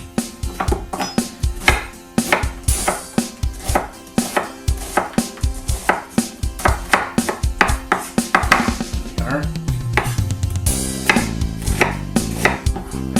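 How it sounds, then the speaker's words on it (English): An onion being chopped into small pieces with a knife on a cutting board, a rapid run of crisp, close knife strikes that keeps going steadily, with no talking. "So I've got an onion here. I'm going to cut it up in fairly small pieces."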